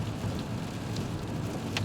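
Rain falls steadily on wet streets, a soft, even hiss with no breaks and no voices.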